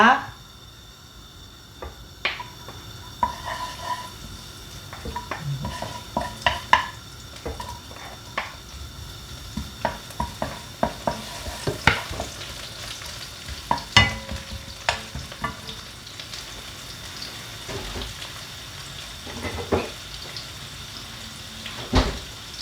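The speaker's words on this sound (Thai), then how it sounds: "แล้วก็จะมาผัด จะมาผัดข้าวกันอาหารจานด่วนนะคะ" Shrimp fried rice stir-fried in a pan, a steady sizzle broken by repeated scraping and clattering strokes of a spatula against the metal, close and continuous throughout.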